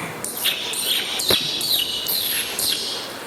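A performer in a mono act competition at a state school arts festival imitates bird calls with a voice: a run of close, loud, high whistled chirps and trills repeating in quick bursts.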